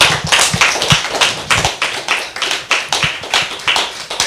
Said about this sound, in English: Can we have a round of applause for Catherine and Maureen, please?